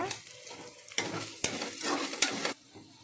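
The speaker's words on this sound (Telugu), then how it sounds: "ఇప్పుడు అంతా బాగా కలిసేలా కలుపుకోవాలి ఇప్పుడు ధనియాల పౌడర్ని అయితే టూ స్పూన్స్ యాడ్ చేసుకుంటున్నాను" Masala with ginger garlic paste sizzles in a pan as coriander powder goes in for a prawn biryani, with several sharp scraping stirs breaking through the steady frying at close range.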